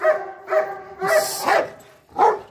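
An anxious dog being handled and calmed gives about five short, sharp barks and yips in quick succession, close and fairly loud, with no talk over them.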